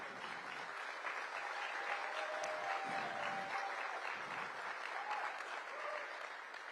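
A crowd claps steadily at a political campaign stop in Richmond Hill, a dense, even wash of applause running throughout with faint voices mixed in.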